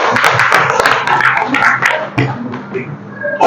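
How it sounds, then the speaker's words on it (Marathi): Teachers in a rural Malegaon primary school classroom clap for a young girl, a dense burst of applause that thins out after about two seconds into scattered claps, with room noise behind. "परीसाठी सरांनी टाळ्या वाजवायच्या आहेत."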